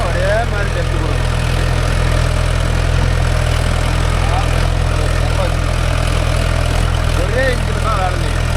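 A Mahindra 575 DI tractor engine runs steadily in farmland, a loud, close, continuous low diesel throb with no letup, while a voice speaks over it.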